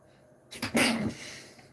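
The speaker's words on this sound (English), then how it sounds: "I gotta sneeze." A single sharp sneeze bursts out after a short quiet pause, with a brief inhale before it and a fading tail afterward.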